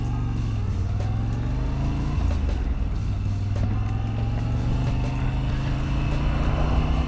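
A Moto Guzzi V7 Stone motorcycle engine idles steadily nearby with a low, throbbing drone while the bike rocks, the pitch shifting slightly and mixed with faint background noise.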